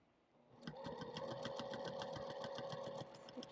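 Sewing machine stitching a mug rug, running in a steady rapid chatter of needle strokes that starts after a brief quiet moment and continues evenly, close and fairly loud.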